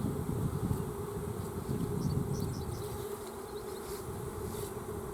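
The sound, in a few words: honeybees buzzing loudly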